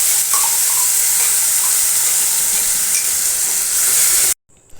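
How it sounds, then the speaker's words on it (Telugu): A ground masala paste hits hot oil in a pan for a sweet corn masala curry, giving a loud, continuous close sizzle and hiss that stops abruptly near the end. "ఇవి కొంచెం ఫ్రై అయ్యాక ముందుగా మిక్సీ పట్టి ఉంచిన మసాలా పేస్ట్ని అయితే ఇందులో వేసుకోవాలి."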